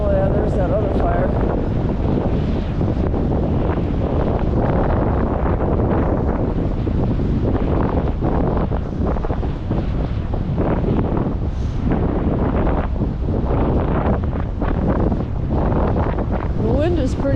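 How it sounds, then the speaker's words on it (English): Strong wind blows outdoors at sunset at about 20 miles an hour, buffeting the microphone with a steady, loud roar that continues throughout, gusting unevenly without letup. "wind is about 20 miles an hour"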